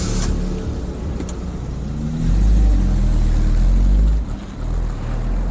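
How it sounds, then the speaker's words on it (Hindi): A car pulling away from a traffic signal, its engine droning low and swelling as it accelerates, close and steady with no talk. "तभी सिग्नल खुला और गाड़ी स्मिता ने आगे बढ़ा दी"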